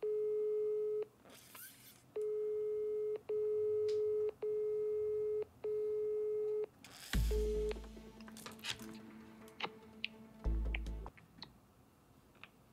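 Telephone call tone heard while dialing out: five evenly spaced, steady beeps about a second long each, clear and close, followed by clattering handling noises and a few fainter tones.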